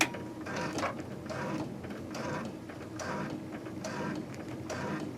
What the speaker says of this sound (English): I'm going to put my presser foot down, and we're just going to stitch real slowly